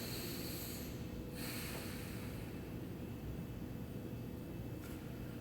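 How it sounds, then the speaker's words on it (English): Deep breaths, a long inhale and exhale repeated a couple of times, sit close over a steady hiss of background noise, with no talking. "take a deep breath"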